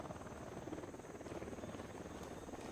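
A drone taking off in the video game Ghost Recon Wildlands gives a steady, close rotor buzz and whir that holds constant and even throughout, with no talk over it.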